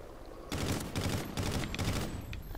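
Call of Duty Ghosts free-for-all match, a loud, close burst of rapid automatic fire breaking out suddenly and rattling on in quick pulses for about two seconds.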